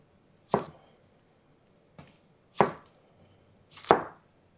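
A knife chops through zucchini on a board: four separate sharp chops with pauses between them, close up and clear, no voices.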